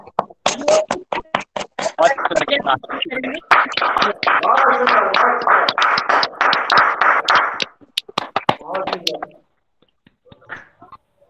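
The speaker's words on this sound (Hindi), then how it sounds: "सभी ताली बजाएं आदरणीय धनेश्वरी जी के लिए।" Audience applause at a daily yoga programme, a burst of clapping hands building into steady dense applause, then tapering off into scattered claps, with a voice speaking over the start.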